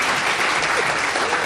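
Brief, full-room applause at an education talk, an even burst of many people clapping that holds steady for a second and a half.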